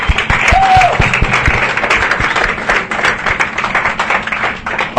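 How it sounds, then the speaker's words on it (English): An audience at a 2016 motorsport radio show applauds steadily, a dense, sustained round of clapping that fills the whole stretch at close range, with a brief whistle-like tone near the start. "Give him a round of applause."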